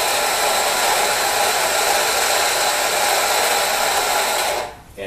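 A manual espresso grinder grinds coffee beans into a portafilter, giving a loud, steady whirring drone that runs without a break for several seconds before cutting off abruptly near the end.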